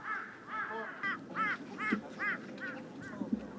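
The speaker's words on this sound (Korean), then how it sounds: "한 곳에 모여든 까마귀와 그런 까마귀를 내쫓으려는 들깨" Crows gathered in one place in falling snow give a run of repeated harsh caws, about eight evenly spaced calls, with an occasional low thump underneath.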